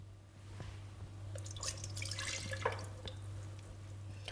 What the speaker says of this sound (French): Donc je verse mes 2 verres de vin.